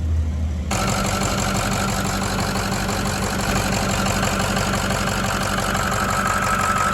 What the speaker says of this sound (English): Let that run for a minute and then we'll crank up this F250.